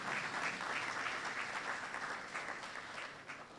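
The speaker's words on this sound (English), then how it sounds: "Let's give him another round of applause." A panel audience at a youth policy dialogue gives a speaker another round of applause, a dense, even wash of many hands clapping, heard faint and distant without pause.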